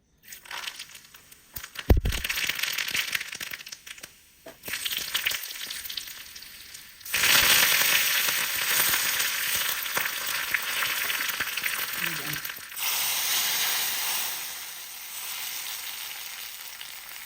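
Hot oil tempering poured into a pot of homemade sambar sizzles and crackles loudly, with a sharp spatter at the start and a strong hiss swelling later, close by and with no talking.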